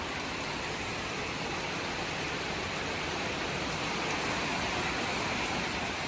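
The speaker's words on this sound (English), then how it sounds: "I've never seen rain like this before, and I mean that." Heavy rain pours down in southern Thailand during flooding, a dense, steady hiss of downpour at constant loudness with no voices.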